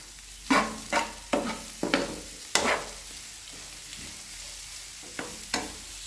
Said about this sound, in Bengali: এখন নুডলস ভাজি করব, যে সবজি ছিল এই মশলাগুলো দিয়ে সবজিগুলোর ভিতরে একটু ভেজে নেব।